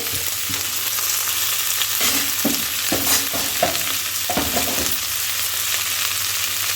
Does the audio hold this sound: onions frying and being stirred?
yes